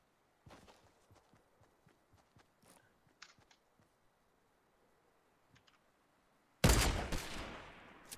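A Desert Eagle pistol in a shooter game follows quiet, scattered clicks and footsteps with a sudden loud, close burst of heavy shots near the end.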